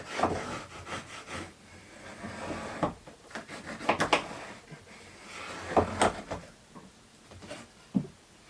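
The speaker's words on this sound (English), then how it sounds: "Put it up in there, then just draw a line on the wood." A pencil draws a line on wood, making soft, quiet scratching and rubbing strokes in several short bursts with pauses between them. The work is fitting a pocket door during a school bus conversion.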